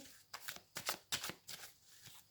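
Oracle cards being shuffled and cut by hand, several quick papery riffles and slaps in an uneven rhythm, close and soft, with no talking.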